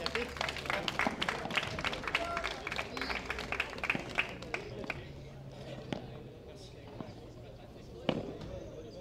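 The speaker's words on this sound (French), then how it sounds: "Vous pouvez, messieurs, dames, applaudir Monsieur Bilal Duprat." Spectators at a padel tournament clap in scattered, uneven bursts that thin out over several seconds, with an announcer's voice and crowd murmur underneath.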